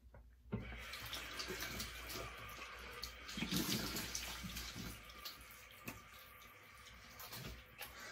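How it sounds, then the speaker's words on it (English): Warm tap water runs into a sink for rinsing after a wet shave, a continuous close splashing flow with small fluctuations and no talking. "Nice warm water rinse."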